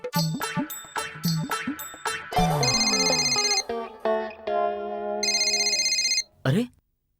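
A landline telephone in a household setting rings with a loud, bright electronic melodic tone, repeating in clipped phrases and longer sustained notes before cutting off abruptly.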